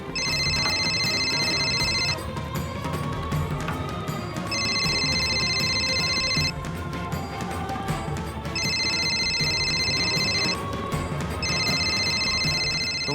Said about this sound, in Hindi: तुम्हारे घर से फोन भी आ गया। उठाओ अपना फोन,